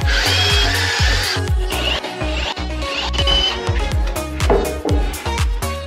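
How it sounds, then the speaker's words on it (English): Repeated power drill bursts boring holes into plywood for refrigerator shelves, loud and close, with a steady rhythmic chatter of strikes and whirring running throughout. "so that when I drill holes for the shelves, I have a thicker support than just the plywood."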